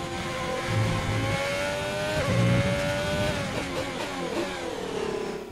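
A Formula 1 car engine in the F1 2020 racing game screams at high revs, shifting pitch up and down through gear changes with continuous loud whine and no talk.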